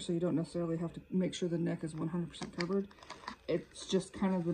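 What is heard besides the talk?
None of the usual background noises is heard.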